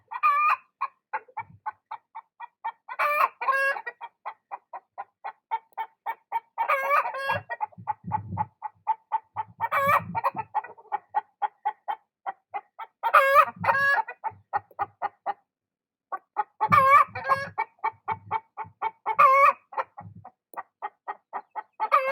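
Hens singing their loud, repetitive egg song, with a rooster crowing in response on a ranch, heard as rhythmic clucking phrases in several bursts, close and clear with no talking.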